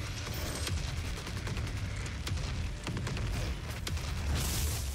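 Gauss cannon firing in the video game DOOM 2016, amid a dense battle of repeated sharp cracks and booming blasts over a continuous heavy rumble, loud and chaotic throughout.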